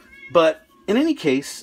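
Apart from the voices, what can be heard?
cat meowing in the background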